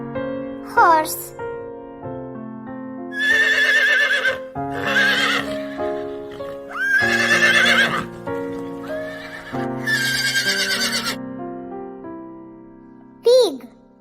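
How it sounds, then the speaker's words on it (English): A horse neighs and whinnies repeatedly, loud and close, in several long shaky calls separated by brief gaps, with a sharper squeal at the start and another near the end. "Horse."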